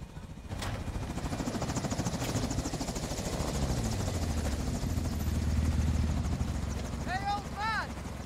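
A helicopter's steady rotor drone hovers close and loud in a Call of Duty Modern Warfare II combat scene, with a deep engine rumble underneath, brief sharp bangs and a few rising whistling tones near the end.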